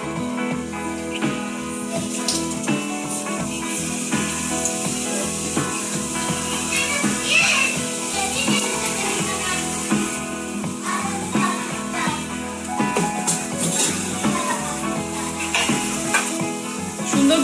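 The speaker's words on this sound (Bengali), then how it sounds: "সুন্দর গোল্ডেন ব্রাউন হবে ততক্ষণ আমাদের ফ্রাই করতে হবে এটা।" Vegetable momos deep-frying in hot oil, a constant bubbling sizzle and hiss at steady, fairly loud level with small crackles and occasional stirring, no voices.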